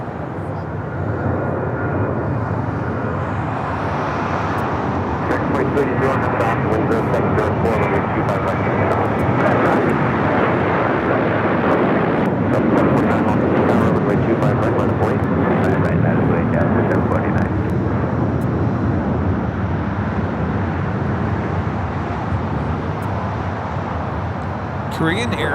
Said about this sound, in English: We also now have the Korean Air A380 rolling.